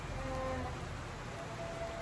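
Light rain falls steadily in a rural yard, a faint continuous patter with no talking.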